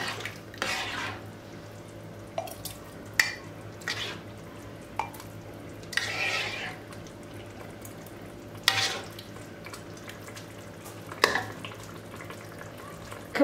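Breakfast sauce being stirred as it cooks in a pot, a spoon scraping and clinking at scattered moments over a low, steady simmer, with quiet pauses between strokes.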